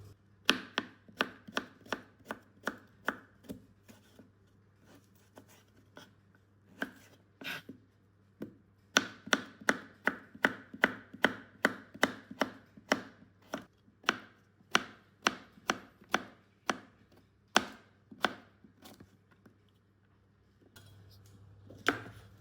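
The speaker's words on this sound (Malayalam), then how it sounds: "ഞാൻ ഏറ്റെടുത്തു കട്ടിങ് ബോർഡ് വെച്ച് അരിയാനായിട്ട്" A knife chopping food on a cutting board in a home kitchen, with many crisp, close rhythmic knocks in quick bursts separated by short pauses, plus a low steady hum underneath.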